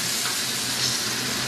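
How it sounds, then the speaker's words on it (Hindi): Potatoes and spices fry in a pan over high flame, giving a steady, close, even sizzle and hiss with no break. "फ्राई कर लें आलू और मसाले को"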